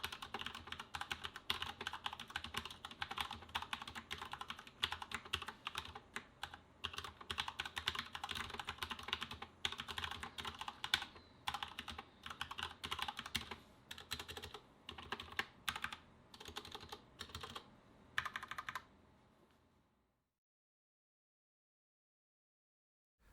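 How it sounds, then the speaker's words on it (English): Corsair K70 RGB TKL mechanical keyboard with red switches and PBT keycaps being typed on, a close, fast, continuous clatter of keystrokes for about twenty seconds before stopping abruptly into silence. "This keyboard actually sounds quite different to the K95 because of the PBT keycaps, and for those of you that want to hear how it sounds"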